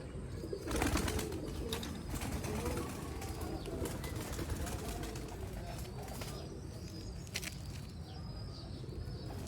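Sialkoti black-mouthed pigeons on a rooftop loft, with soft repeated cooing and brief wing flutters rising over steady ambient noise throughout.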